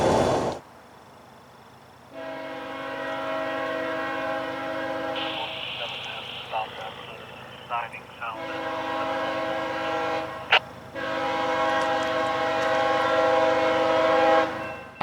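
Northbound freight train M442 sounding its multi-tone horn in long sustained blasts, with a rumbling passing train underneath, a brief gap between horn calls and a sharp clank midway.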